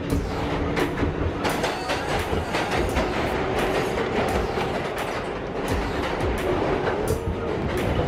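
Subway metro train riding underground, a loud, steady rumble with rhythmic clickety-clack from the wheels and occasional sharp rattles throughout, with no talk.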